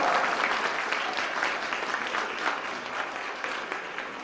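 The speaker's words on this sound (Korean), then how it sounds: "박수 부탁드립니다." A seated literary-talk audience applauds a prize presentation on stage, with steady, moderately loud clapping from many hands that continues evenly and fades slightly toward the end.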